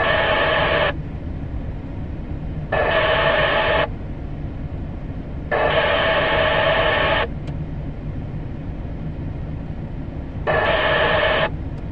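A Midland MXT575 two-way radio gives bursts of harsh squelch static, four loud hissing blasts of roughly one to two seconds each, separated by a quieter steady hiss.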